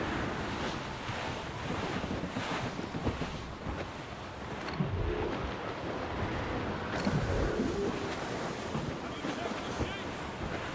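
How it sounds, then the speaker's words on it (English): Wind at sea in Assassin's Creed Rogue, a constant loud rushing gust mixed with surf and waves against a sailing ship, steady throughout with a short muffled dip midway. "That wind's trouble, Captain Cormac."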